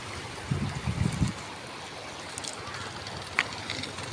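A river at Lambunao, Iloilo, near a hanging bridge where people are bathing, gives off a faint, steady rush and trickle of flowing water. A few low bumps and a brief knock rise over it.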